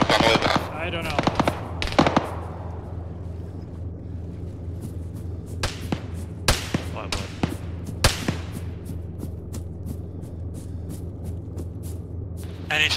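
Machine gun fire in the military shooter game Arma 3, with repeated bursts and single reports scattered throughout, some near and loud, others fainter, alongside occasional radio-style talk.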